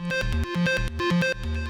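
A step sequence on an Arturia MicroFreak synthesizer set to an odd microtonal scale: short, punchy notes with strong bass pitches repeat in a steady rhythm, loud and close, with no voice over it.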